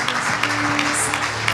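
Church congregation at a worship service applauding, a short dense burst of clapping with a faint hum beneath, fairly loud and close.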